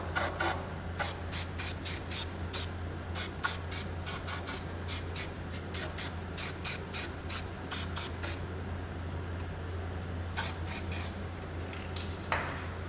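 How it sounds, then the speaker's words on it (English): Weld-through primer hisses from a spray can onto a rusty front frame rail of a turbo Datsun 510 wagon, in a long run of short, close bursts with a brief pause before a few more. "I'm gonna hose this with weld through primer"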